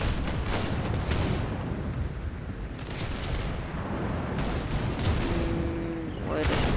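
Rapid gunfire in the Roblox game Arsenal, a dense stream of loud shots and bursts running nearly throughout, with brief sharper cracks near the end.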